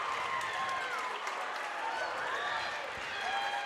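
Crowd noise at a varsity boys high school basketball game in a gym, a loud, continuous roar of fans with cheering and whistles, a commentator's voice running over it.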